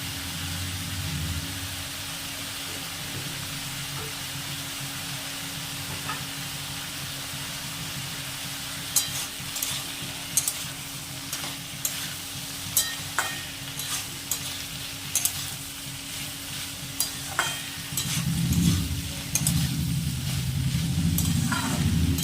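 Cauliflower stems and mixed winter vegetables stir-fry in a pan with Kashmiri chilli powder, giving a steady low sizzle with no talk. Light scraping and tapping of a stirring spoon joins in about halfway through.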